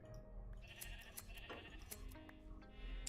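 Sheep bleat in the blocky Minecraft game on a sheep farm, a few faint, soft cries mixed into quiet game sounds and a low background hum.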